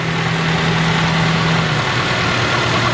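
A car engine idling at low speed after its idle stop screw was backed off, giving a steady, continuous low hum with no breaks from start to finish.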